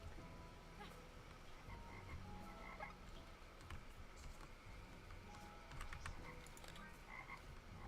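A frog croaks in the video game Beasts of Maravilla Island, repeating steadily against a dense, quiet jungle ambience with faint chirps and clicks, and no talking.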